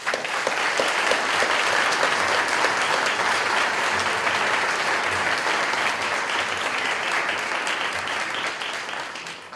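An audience at a Martin Luther King Day celebration gives its representatives a round of applause. Full, sustained clapping from a large crowd lasts nearly ten seconds and fades slightly at the close.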